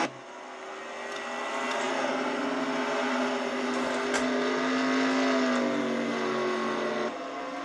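A race car engine in a racing video game roars at high revs, then drops through downshifts under braking, a loud, close, continuous whine with stepping pitch changes and no talk.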